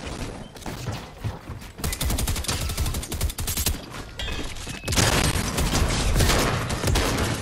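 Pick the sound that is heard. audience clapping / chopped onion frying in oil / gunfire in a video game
gunfire in a video game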